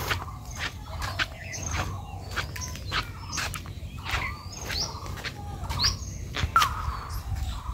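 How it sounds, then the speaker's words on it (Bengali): A bird calls from open rice paddy fields in repeated short, sharp chirps and tweets, fairly close, scattered irregularly over a low, quiet outdoor hum. "পাখি ডাকতেছে কু,"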